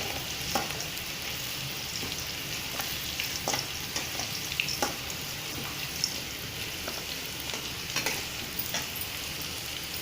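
Garlic sizzling and frying in hot oil while tamarind paste is prepared, a steady close crackle with scattered sharper pops and occasional stirring, no voices.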